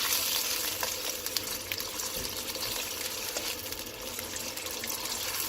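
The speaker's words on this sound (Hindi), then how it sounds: "अब हमें टमाटर डालने के बाद इसकी अच्छी तरह से भुनाई कर लेनी है" Tomato masala frying in a karahi over high flame, a continuous soft sizzling hiss with faint scattered crackles, no voices.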